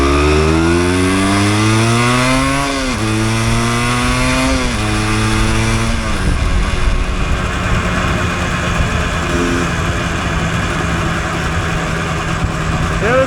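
A 1988 Yamaha DT200 two-stroke enduro motorcycle is ridden on a snowy winter trail, its loud, close, buzzing engine revving and dropping through gear changes before settling into a steady ringing drone, with someone talking over it.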